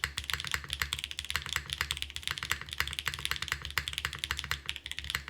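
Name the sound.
typing on a mechanical keyboard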